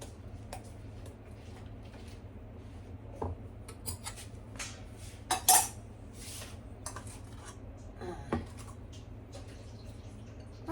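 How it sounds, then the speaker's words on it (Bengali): Marinade ingredients are mixed together with chicken in a bowl, giving quiet, scattered clicks, taps and soft rubbing at an irregular pace, with no one speaking. "ভালো মতন মিক্স করে এবার চিকেনটার সাথে মিশিয়ে দেবো।"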